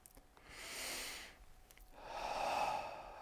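Two slow, deep breaths, one drawn in and one let out, close and soft, taken during a calm guided relaxation with no talk over them.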